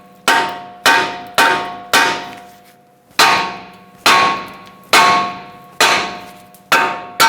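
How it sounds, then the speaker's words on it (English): Nine sharp, loud metallic hammer strikes on an aluminum steering knuckle of a Nissan Altima ring out at an uneven pace, each blow clanging and decaying quickly. "So I'm going to hammer on this outer tab here."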